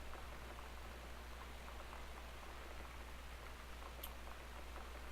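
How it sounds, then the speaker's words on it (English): Steady, faint rain falls in the video game Gone Home, a soft even wash of patter with a low hum beneath and one small bright tick partway through. "Well, it's raining."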